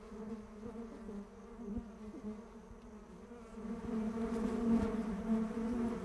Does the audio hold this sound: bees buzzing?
yes